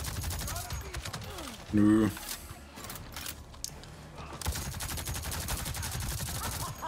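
Assault rifle gunfire in the video game Avatar: Frontiers of Pandora, rapid bursts running through most of the scene amid loud combat noise, with one heavy blast near the start and a brief spoken word.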